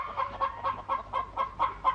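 Cartoon chickens cluck in a quick, regular rhythm, about eight or nine close, even clucks in a row with no talking over them.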